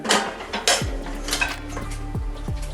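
A curry saucepan and other dishes are lifted out of a Bosch dishwasher, making close metallic clanks and clatters with a few ringing knocks of pots and cutlery, no voices.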